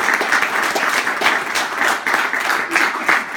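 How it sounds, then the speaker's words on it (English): Guests at a 70th wedding anniversary celebration applaud after the couple's renewed vows, a lively, fairly loud patter of clapping from a small gathering with rhythmic surges throughout. "You can all applaud."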